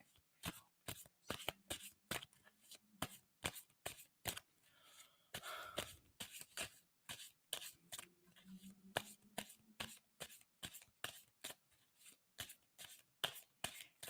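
Tarot deck shuffled by hand in quick repeated riffles and sharp card slaps, close and crisp, spaced in a fairly regular rhythm with a faint low hum underneath and no voices.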